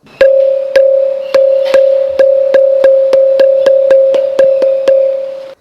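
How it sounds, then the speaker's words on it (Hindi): A school bell struck rapidly and evenly about fourteen times, producing a bright, steady metallic ring that sustains between hits and stops cleanly at the end. It is close and loud, with no speech. "और यहाँ एक स्कूल की घंटी की आवाज है।"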